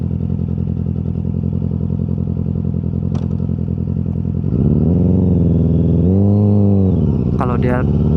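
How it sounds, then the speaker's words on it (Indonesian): A Yamaha R6 motorcycle engine at low RPM lugs along with a loud, steady rumble that rises in pitch partway through, with a brief clatter near the end. "Kalau di RPM rendah itu suaranya terdengar kayak 3 silinder ya."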